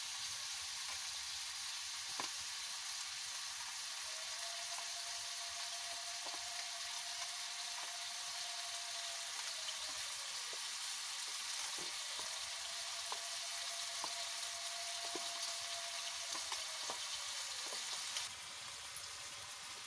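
Spiced potato sizzling in a pan as a loud, steady frying hiss, with occasional scrapes and a faint sustained tone running through it, no talking.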